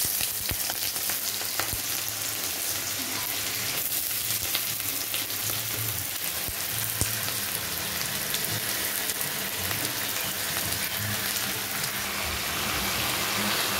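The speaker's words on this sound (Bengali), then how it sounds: "এই কড়াইতে এবার শাকটা ভেজে নেব।" Red amaranth greens fry in a wok with dried chili and five-spice tempering, a continuous close sizzle with occasional crackles and stirring scrapes, no voices.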